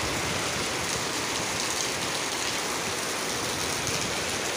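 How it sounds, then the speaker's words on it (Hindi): Strong wind blows through trees after rain: a continuous, even roar of rushing air and rustling leaves, filling the whole stretch with no pauses or voices. "अभी भी हवा अच्छी खासी है।"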